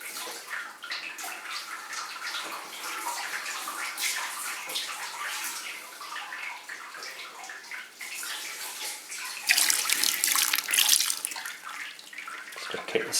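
Sparge water pours vigorously onto the grain bed in a Grainfather brewer, a steady splashing rush that surges louder near the end, heard alone at close range.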